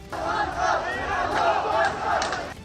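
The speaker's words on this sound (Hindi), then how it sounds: "तस्वीरों में सैकड़ों प्रदर्शनकारी संसद के बाहर जमा होकर हंगामा करते नजर आए।" Hundreds of protesters gathered outside parliament raise a loud, continuous uproar, a dense roar of shouting voices that swells and dips without pause.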